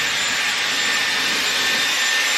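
A Dyson Airwrap hair styler blows air with a steady, loud, hissing whoosh that is close and unbroken throughout.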